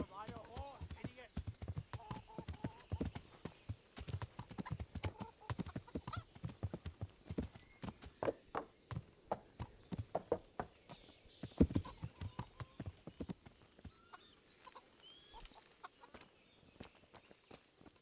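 Steady clip-clop of horse hooves trotting at a brisk rhythm in the video game Kingdom Come: Deliverance, with occasional clucking fowl and voices talking in the background.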